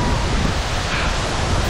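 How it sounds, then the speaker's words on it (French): A waterfall in the Dolomites roars with dense, steady broadband rushing water, loud and close with no break. "la belle cascade"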